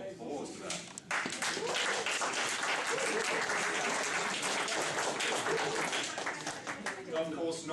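A club's annual general meeting audience gives the executive team a round of applause, a dense, sustained burst of many hands clapping that begins abruptly and holds steady at close range for several seconds.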